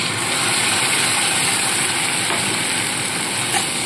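A ginger, garlic and onion paste frying in a pan over lightly browned onions gives a steady, close, even sizzling hiss with no pauses and no talking.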